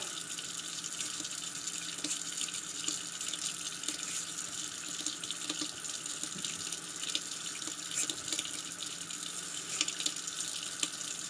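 Tap water runs in a steady, unbroken rush as Remington 1858 revolver cylinders are rinsed under it, with faint clinks of metal now and then.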